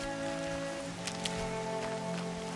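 Steady rain patters in the video game Horizon Zero Dawn over a continuous ambient hum, with a couple of brief brighter splashes standing out near the middle.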